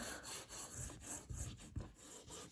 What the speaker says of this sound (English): And then you take something, it could be the back of your cutter, or it could be a spoon. And you rub,